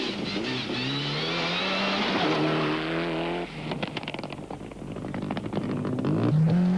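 A rally car on a special stage runs with its engine misfiring, a loud near engine note that rises in revs, then stutters and breaks up into uneven popping bursts before picking up again.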